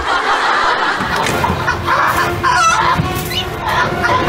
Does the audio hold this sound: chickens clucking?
yes